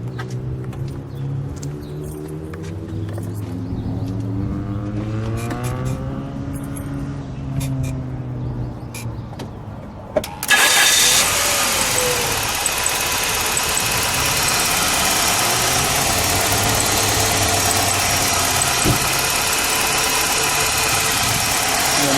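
A 1989 Chrysler TC by Maserati engine cranks and catches with a sudden burst, then settles into a steady, loud idle with a continuous mechanical hum.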